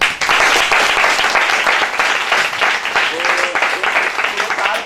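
Loud, enthusiastic applause from a church congregation, dense clapping filling the room with a few voices rising over it.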